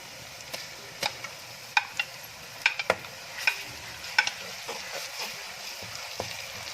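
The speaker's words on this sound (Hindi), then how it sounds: "चले, अब हम इसमें डालेंगे लहसुन और अदरक का पेस्ट।" Garlic-ginger paste fries with onions in a pan for a Punjabi-style potato and moong dal curry, a low sizzle under repeated clicks and scrapes of stirring at an irregular rhythm.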